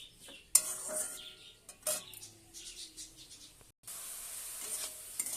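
Pumpkin leaves fry in a pan on a gas stove, a faint, soft sizzle broken by scattered scrapes and clinks of a utensil stirring, quiet and close with no talk.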